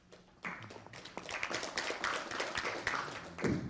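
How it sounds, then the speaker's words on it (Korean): Audience at an intellectual property research conference and awards ceremony clapping to welcome a discussant, starting after a brief pause and holding steady at moderate loudness for a few seconds. "박수로 맞이해 주시기 바랍니다"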